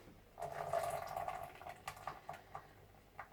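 Pancake batter is poured into a big bowl, giving a quiet liquid glugging and a few soft plops and taps, faint and close.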